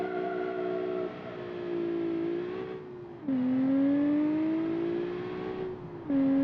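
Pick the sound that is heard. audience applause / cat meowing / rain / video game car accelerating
video game car accelerating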